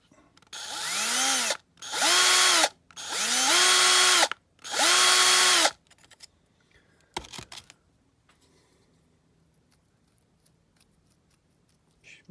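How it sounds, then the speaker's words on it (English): An electric drill whirs up and down in four short bursts, each spinning up and winding down, followed by a few clicks and near silence, drilling into a Matchbox VW Beetle diecast model during restoration. "swap drills for a slightly bigger drill."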